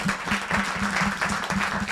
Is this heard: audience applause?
yes